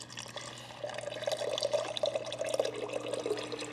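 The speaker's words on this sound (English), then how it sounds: "It says to add 8 to 12 ounces of water, so let's do that." Water poured from a tap into a cup of scooped drink mix, a steady close splashing and gurgling stream that starts after a brief pause and runs on to the end.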